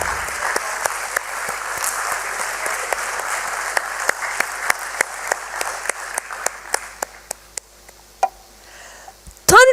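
Audience applause at a Tata Motors commercial vehicle business stock listing ceremony on the BSE, a dense steady clapping that thins into scattered individual claps and fades toward the end, with a brief sound at the close.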